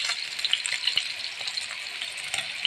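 Curry with tomatoes sizzles and fries in a pan as it is stirred, a steady bright hiss with occasional scraping and bubbling pops, close and alone without talk.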